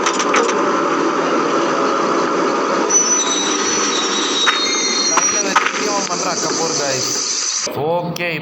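In a spider horror video game, a train rumbles and clatters steadily past, with wheel squeals and metallic screeches rising over the rolling noise before it cuts off abruptly near the end.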